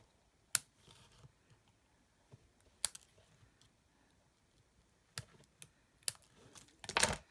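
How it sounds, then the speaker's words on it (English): Scissors snip bits off a paper die cut, making a handful of crisp, isolated clicks spaced irregularly over quiet, with a quick cluster of cuts at the end. "we'll snip some bits off this one"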